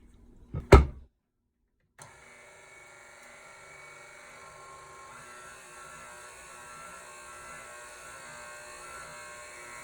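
An electric mixer beats condensed milk pound cake batter with a steady, continuous whir after a short knock near the start, holding level without a break and with no talking.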